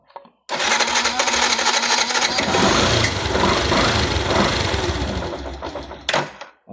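An engine with a carburetor overflow fault cranks and catches, then runs loud and steady with a rattling, mechanical roar for several seconds before cutting off abruptly.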